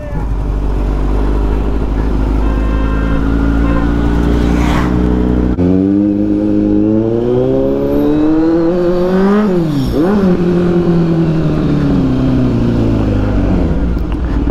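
Kawasaki Z900 motorcycle with a Racefit exhaust, loud and close, idling roughly before several sharp revs that climb and drop, one rising high around the middle.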